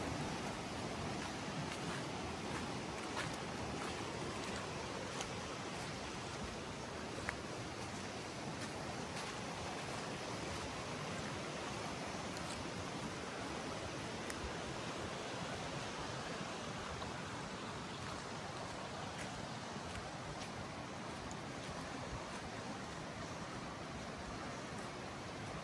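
A river on Exmoor flows in a steady, faint hiss of rushing water that goes on with no change for the whole stretch. No one talks over it.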